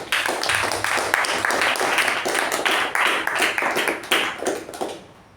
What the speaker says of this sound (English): let's give ourselves and a very, very good round of applause